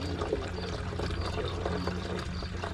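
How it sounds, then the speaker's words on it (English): Water-based concrete dye is poured from a rinsed bottle into a new container, a steady close gurgling pour lasting the whole moment without a break. "pour it into my"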